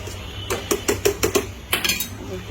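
A spoon stirs mango chutney in a metal pot, making about eight regular clanks and scrapes, close and clear, with no talk.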